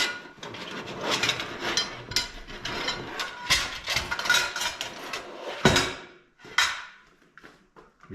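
Small metal grid-holder parts for a Flame Master (wing nuts, washers and R-clips) come out of a plastic bag onto a table with rustling and bursts of light metallic clinking and clattering, close by, with no talking.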